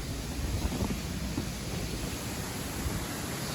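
Wind blowing steadily outdoors at night in New Jersey after a blizzard, a constant broadband rush with low gusty rumble near the microphone, no voices.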